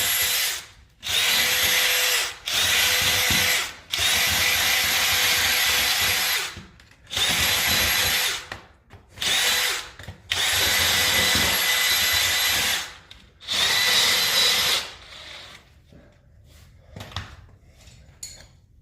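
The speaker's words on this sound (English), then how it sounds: "Do a little more drilling." A power drill bores into a cast iron drain hub in repeated loud, sustained bursts separated by short pauses, then falls quiet near the end.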